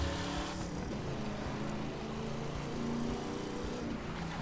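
Engine of a 1982 Pontiac Firebird Trans Am in The Crew 2, a steady, loud, low burbling drone that holds constant throughout with no talk over it.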